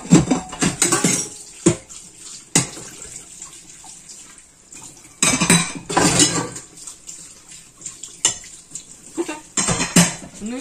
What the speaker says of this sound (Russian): Нужно помыть кружки, стою, намываю тарелки